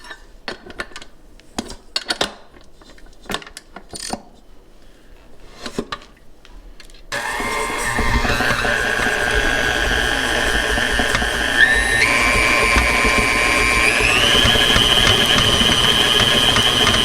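An electric mixer creams softened butter and sugar in a bowl for kolacky cookie dough; scattered clinks open the clip, then a steady loud motor whir sets in and climbs in pitch as the speed goes up.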